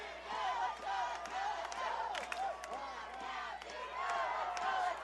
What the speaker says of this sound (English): the cheer from the players on the bench trickled out to the crowd